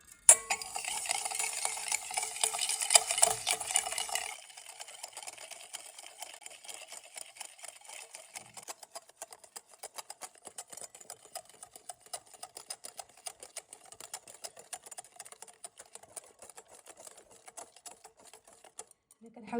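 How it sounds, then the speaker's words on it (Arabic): Egg yolks and sugar are beaten hard in a bowl, a fast rhythmic whirring and clicking that is loud at first, then settles into a steadier, quieter patter while someone talks over it. "غادي نضربوه مزيان مزيان حتى كيتبدل اللون ديالو"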